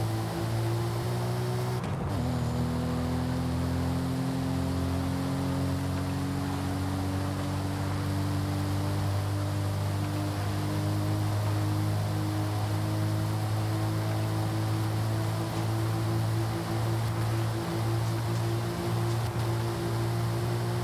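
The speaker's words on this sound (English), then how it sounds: "You hear those misfires?" Forza Horizon 5 car engine in a drift build, idling and running steadily with a strong low harmonic drone that sags and dips in pitch. The power cuts in and out, with a brief stutter near the start, and no talk.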